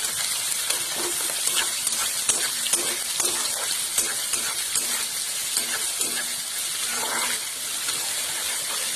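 Peanuts, onion, curry leaves and green chillies fry in oil for upma, giving a dense, continuous crackling sizzle close by, with frequent light stirring scrapes throughout and no voices.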